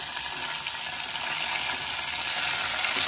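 Onions frying in oil for a gongura egg curry, with a steady, close, bright sizzle that holds through the whole stretch, no talk over it.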